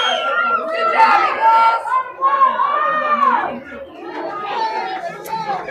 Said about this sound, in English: Crowd's starting to come alive here in the second half.